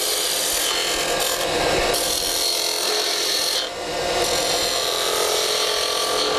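A skew chisel scrapes and rasps steadily as it cuts a cove into spinning wood on a lathe, a loud, close, continuous cutting hiss with a brief dip midway.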